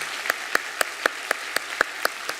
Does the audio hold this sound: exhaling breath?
no